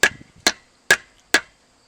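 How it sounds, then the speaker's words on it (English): The back of a hammer handle is struck on an anvil to seat a wedge, producing four crisp, evenly spaced knocks that are close and clear with quiet gaps between them. "place the wedge on the anvil and strike the back of the handle"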